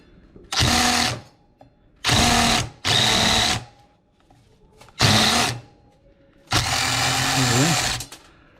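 Power tool loosening a nut while scrapping a home HVAC unit, sounding as five loud, close whirring bursts of about half a second to a second and a half each, separated by quiet pauses, with no talk.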